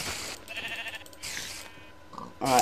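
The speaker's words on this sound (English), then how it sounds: "don't kill the sheep either." Sheep in the Minecraft video game bleat in short game-sound bursts amid other in-game noises, with no talking.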